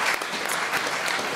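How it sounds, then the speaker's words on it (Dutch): Warm applause from the audience at a Dutch economics discussion event, continuous close clapping with no talking. "Ik wil een heel hartelijk applaus voor Bas Jacobs, Marieke Blom en Pieter Gaut"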